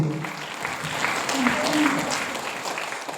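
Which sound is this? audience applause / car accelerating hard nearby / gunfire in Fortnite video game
audience applause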